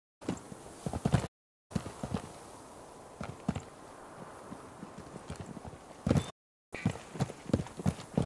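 Horse hooves in a video game cutscene, a steady clip-clop of several horses walking on hard ground, fairly quiet and continuous, with brief silent gaps between shots.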